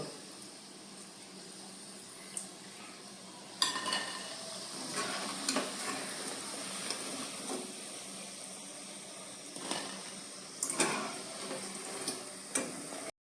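Marinated soya chunks deep-frying in hot oil, a low continuous sizzle broken by sharp ticks and clinks of a utensil against the pan, close and fairly quiet.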